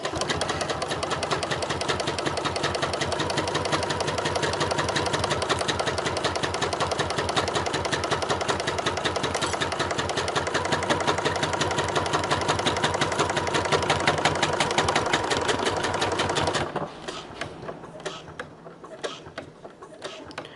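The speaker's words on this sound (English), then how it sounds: "So I'm now going to stitch all the way across to the next cross." A sewing machine stitches a bag with a rapid, steady mechanical chatter, close and loud for about sixteen seconds, then stops, leaving quiet handling noises.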